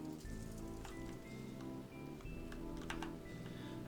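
Rain falling in the Green Hell rainforest game, a soft steady patter of drops on surfaces over a low constant hum, quiet and continuous.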